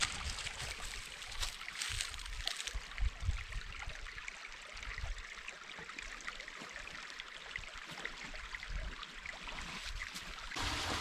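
Clear water runs through a culvert on a farm in Western North Carolina, a soft continuous trickling and gurgling rush heard close and fairly faint, with a few louder splashy bursts.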